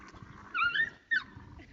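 A puppy gives a couple of short, high yelping whines and yips with a quiet rumble of background noise between them.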